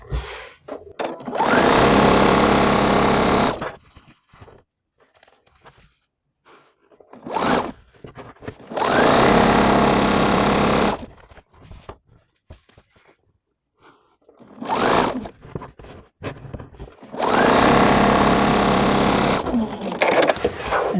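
A sewing machine stitches quilt block rows together in loud, close bursts of a few seconds each, separated by short quiet gaps with faint handling noises.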